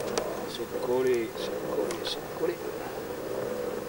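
Honeybees buzz steadily around an open beehive at a Pelissanne apiary where honey lies exposed, a continuous low drone of many insects close by, with someone talking in French over it throughout.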